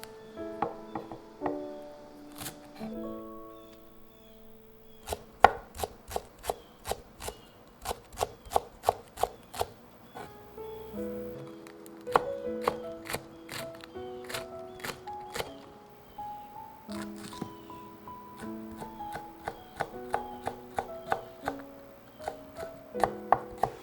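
A knife chops green onion into long pieces on a cutting board, crisp separate knocks in quick bursts with short pauses between runs, close and clear with no talking.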